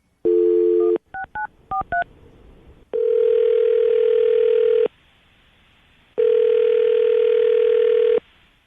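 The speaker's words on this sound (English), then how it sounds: "All right, Jackie, you ready to call him?" A telephone dial tone, quick keypad beeps being dialed, then two long ringback tones separated by a pause, loud and close, during a radio show phone call.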